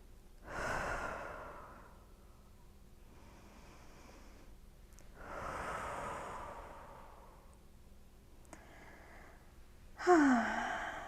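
Slow, deep breaths during a lower-body yoga stretch, three long exhales spaced a few seconds apart, close and soft, with a louder sigh-like breath at the end.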